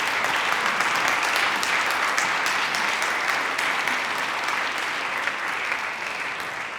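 An audience applauds for the winner of a quality-of-life research award at a ceremony, with steady, dense clapping that holds loud and even across the whole stretch before easing slightly at the end.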